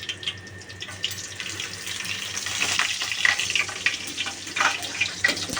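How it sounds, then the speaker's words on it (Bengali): Whole garam masala and shahi jeera drop into hot oil, giving a steady, close sizzling hiss that swells slightly midway and carries on without pause, with no voices. "এইবার এই তেলে আস্তে আস্তে করে সব ফোড়নগুলো দিয়ে দেবো"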